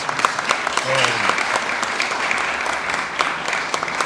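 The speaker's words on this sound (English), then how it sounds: "Give her a round of applause" Applause from a crowd at a civic reception for a city representative, a dense, steady patter of many hands clapping throughout, with a few sharper claps and faint murmuring mixed in.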